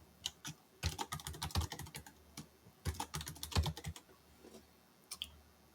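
Keystrokes on a computer keyboard as a password is typed: bursts of quick, close clicks with short pauses between runs, ending in a few isolated taps.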